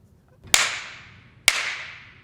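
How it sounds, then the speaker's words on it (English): An orchestral percussion whip, two hinged wooden slats, snaps shut twice about a second apart, each crack sharp and loud up close with a short decaying ring, no talk between. "This one is called a whip."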